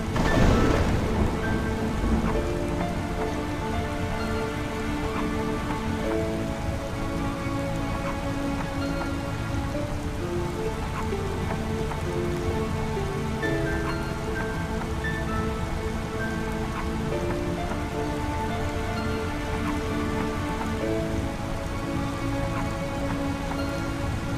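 Heavy, steady rain in a video game, with rolling thunder mixed through the downpour. It starts with a loud burst and then holds a dense, continuous roar for the whole stretch, with no voices.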